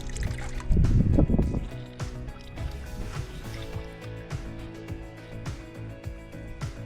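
Water is poured and sloshes into a cob mix for a self-built desert home, a brief splashing burst followed by soft trickles, squelches and wet stirring close by.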